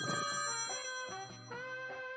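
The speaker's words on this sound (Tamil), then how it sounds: "ஃபோன் அடிக்குது, எடுத்து ஸ்பீக்கரில் போடு." A phone rings with a bright electronic ringtone of repeated tonal pulses, clear and alone for a couple of seconds.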